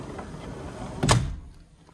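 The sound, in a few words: French doors being closed in a hotel room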